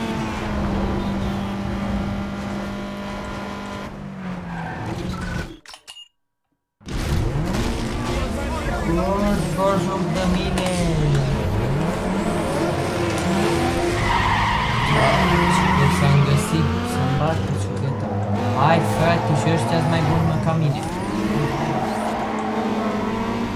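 A Toyota Corolla in a racing video game revs and skids, with long, loud tire squeals and engine drone running nearly continuously and a brief drop to silence partway through, while someone talks over the action.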